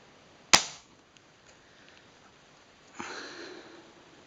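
A single sharp shot from an Air Arms Pro Sport .22 FAC air rifle running about 18 foot-pounds, close and alone, snapping and decaying quickly, followed a few seconds later by a softer faint rustle.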